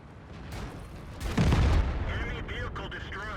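Tank cannon firing in the World of Tanks game, a single booming shot with a sharp low thump that trails into a rumbling decay, with faint background sounds and some speech-like noise around it.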